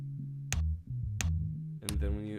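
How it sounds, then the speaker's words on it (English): Saturated bass line from an Ableton Live soul-sampling session, with deep distorted low notes pulsing in a short riff alongside brief sharp percussive hits, loud and up front with no talking. "So it'll sound like this with the saturator"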